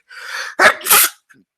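A person sneezes twice in quick succession, close and loud, with a short breath between and a faint sound after.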